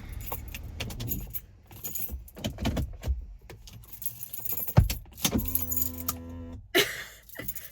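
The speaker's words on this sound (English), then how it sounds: "Let me turn my car off." Keys jangle and rattle near the microphone inside a car as it is switched off, with clicks and handling noise, a low engine rumble, and a brief electronic chime toward the end.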